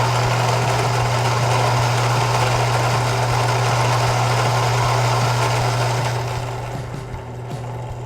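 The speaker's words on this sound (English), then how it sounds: "So it actually just stops automatically when all the grinds have passed through the burrs." Burr coffee grinder grinding beans for pour-over coffee, a loud steady motorized whir with a constant low hum running continuously for about eight seconds, easing slightly toward the end, no talking.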